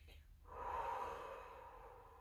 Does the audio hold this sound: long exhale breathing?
yes